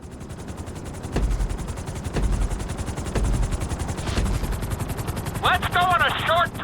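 Helicopter in GTA V flying a city tour course, a steady, loud rotor thrum with periodic low thumps running throughout, with a brief electronic chirping tone near the end.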